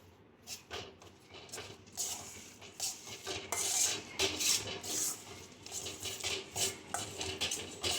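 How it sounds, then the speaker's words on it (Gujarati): Gujarati coconut sweet (topra pak) mixture being stirred in a pan over low heat, with a spoon scraping and clinking against the metal in an irregular, steady rhythm throughout, fairly close. "આ રીતે બધું મિક્સ કરી લેવાનું."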